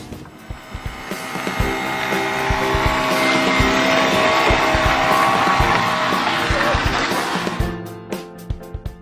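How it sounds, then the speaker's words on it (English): A car's electric whine swells and hums steadily, with clicks and ticks at the start and end, close and fairly loud. "the car starts whirling and buzzing, put it in drive, more whirling and buzzing"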